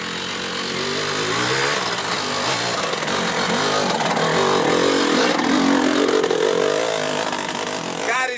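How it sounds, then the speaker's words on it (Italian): A 1983 enduro motorcycle engine drones loudly and continuously, its pitch rising and falling as it revs, with no pauses. "sentirete la differenza di rumorosità fra una moto da puro enduro"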